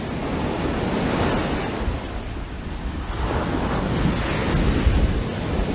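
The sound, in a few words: ocean waves on the beach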